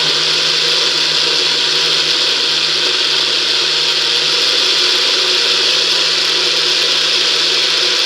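A NutriBullet blender runs continuously, a loud, steady high-pitched motor whine with a constant grinding roar that never lets up over several seconds, with no talking.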